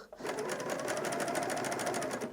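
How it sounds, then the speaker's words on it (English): Bernina L460 overlocker stitching fabric at full speed, about 1500 stitches per minute, a steady rapid mechanical whir with fast rhythmic clatter that starts abruptly and holds loud and close throughout. "I'm just going to raise the foot and pop the fabric in and make a start"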